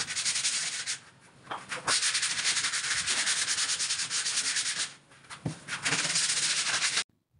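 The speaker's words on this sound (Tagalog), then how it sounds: "nililiha ko siya ng number 120" Close, continuous hand sanding of painted plywood with 120-grit sandpaper between coats, rapid back-and-forth rasping strokes with two brief pauses before stopping.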